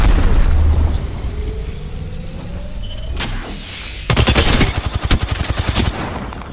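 Gunfire in Apex Legends: scattered shots and a dull boom early on, then a loud rapid burst of automatic fire in the last seconds, with no talk.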